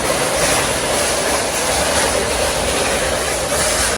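A train rumbles past close by, a loud continuous roar of wheels on rails throughout, with no talking.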